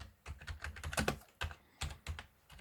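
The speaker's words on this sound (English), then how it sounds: "with typing, well, keys are clunky" Fast typing on a Rii RK900 Plus gaming keyboard, clunky keystrokes clicking in quick irregular bursts with brief pauses, close and moderately loud, no voices.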